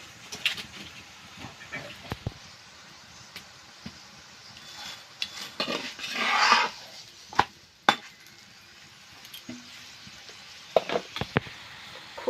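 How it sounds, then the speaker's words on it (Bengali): Spinach egg roll frying in a pan over low heat, village-style home cooking, with a soft steady sizzle, scattered clinks and scrapes of a utensil, and a louder burst of hissing midway through. "একবার উল্টে দিচ্ছি। অল্প জ্বালানে কিন্তু ভাজতে হবে"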